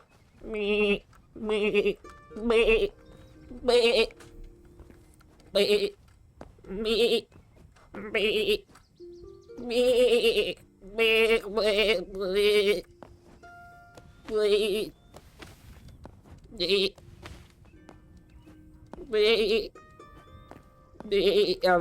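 A person imitates goat bleating with a long run of wavering, nasal bleats in short bursts separated by brief pauses, loud and close to the microphone.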